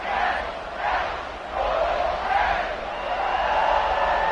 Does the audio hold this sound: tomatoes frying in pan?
no